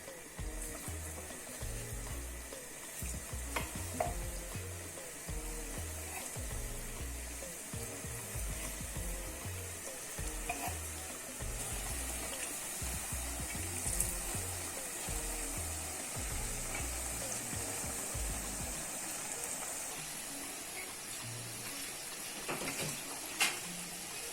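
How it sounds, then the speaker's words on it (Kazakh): Small cheese dough balls fry in hot oil, giving a steady close sizzle that holds across the whole stretch with faint clinks and stirring in the background, and no talk. "Енді біз бұны қызып тұрған майға салып қуырамыз."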